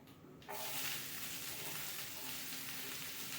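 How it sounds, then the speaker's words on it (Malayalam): Onions and green chillies hit hot oil in a pan: after a quiet half-second, a loud, close sizzle bursts in and holds steady as a thick, even crackle. "ഉള്ളിയും പച്ചമുളക് ഇട്ട് കൊടുത്തു."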